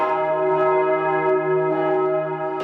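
Church bells of Strasbourg cathedral ring out in a steady, sustained wash of overlapping metallic tones, loud and resonant with no other sounds.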